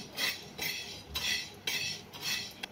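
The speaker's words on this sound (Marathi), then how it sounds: "तांदूळाला चांगला लाल रंग येईपर्यंत भाजायचा आहे" Rice roasting in a pan for Marathi-style kheer, stirred with a metal spoon in steady scraping strokes, about five rhythmic passes, close and moderately quiet with no voices.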